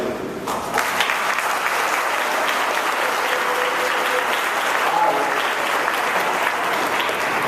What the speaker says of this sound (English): he wants you to clap